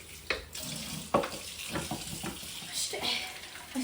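Water splashes and runs into a pot of ragi mudde with uneven gurgling bursts, a busy wet sound close by.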